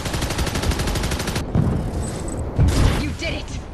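Heavy rocket and weapons fire pounds an armored Enforcer in the VR game Archangel, with dense rapid bursts for the first second and a half, then heavier booming impacts and rumble mixed with game voices.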